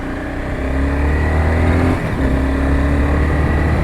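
A car engine drones loud and close at steady revs in high gear, dipping briefly as a clutchless gear change drops the load, then resuming its steady growl.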